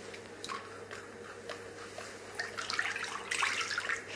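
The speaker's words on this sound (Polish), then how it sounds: "Następnie wlewamy płyn do kąpieli." Bath liquid is poured into water in a baby bathtub, giving a soft, close trickle and splash that grows busier toward the end, with no talking.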